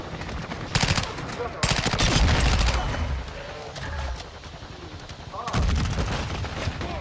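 Honey Badger rifle gunfire in Modern Warfare 2, loud rapid automatic bursts in three separate volleys with a brief pause between them, while a player talks over the shooting.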